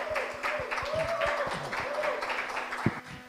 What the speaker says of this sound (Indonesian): Bisa minta tepuk tangan yang lebih meriah lagi tentunya teman-teman semua.